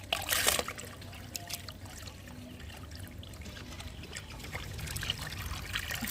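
Wheat grain is washed in dirty water, with steady close trickling and pouring, gentle sloshing and a splashier burst at the start, no voices.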